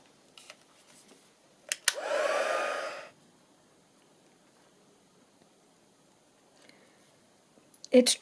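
A hair dryer blows steadily for about a second, drying a layer of craft work, bracketed by a few sharp clicks and taps in an otherwise quiet room.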